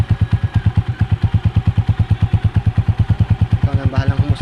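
A DL 150 motorcycle fitted with an Apido exhaust pipe idles with a steady, even rapid thump of pulses throughout, loud and close, with a slight rise in revs near the end.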